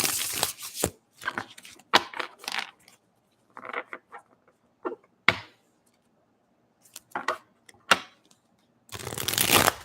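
A new tarot card deck is shuffled in short crisp bursts of riffling and slapping, separated by quiet gaps, close by with no talking.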